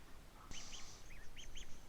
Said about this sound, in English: As you can see, the duckies are settling in well.